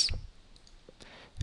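A computer mouse clicks a few times, soft and close, with sparse single clicks spread across a quiet moment.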